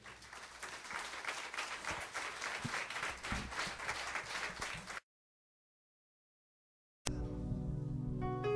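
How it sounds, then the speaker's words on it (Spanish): Church congregation clapping in praise, a steady, lively patter of many hands for about five seconds, then a sudden silence before music-like tones start. "Dale un aplauso al Señor."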